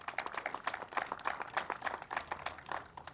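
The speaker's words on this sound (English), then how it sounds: "Let's give the Commissioner a round of applause." Audience at the Angry Orchard Cider House applauds the state Agriculture Commissioner, a faint, continuous patter of many hands clapping, steady and somewhat distant.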